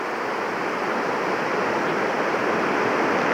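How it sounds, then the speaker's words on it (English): Spring water flowing gently out of rocks on a hillside, heard as a steady, even rushing hiss with no breaks, close and fairly loud. "is not gushing too much, but it's just gently flowing out of the rocks"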